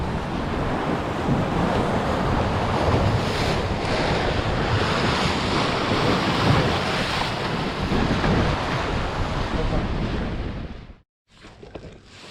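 Strong 25-knot wind roars over the microphone aboard a sailboat at sea near Giglio Island, with crashing waves and rushing water, steady and loud, then briefly cuts out near the end.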